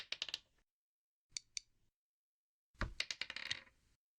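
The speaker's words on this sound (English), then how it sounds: "Let's roll the dice." Dice rattle and clatter in three quick bursts during a virtual tabletop role-playing game, with a short pause between the first two rolls, crisp and close with no talking.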